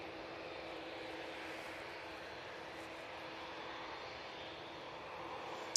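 A KLM Airbus A321neo jet departs Manchester Airport for Amsterdam, its engines a steady, broad roar held at an even level throughout, somewhat distant and unaccompanied by voices.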